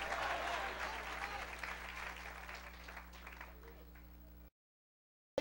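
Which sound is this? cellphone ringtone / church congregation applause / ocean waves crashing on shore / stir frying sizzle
church congregation applause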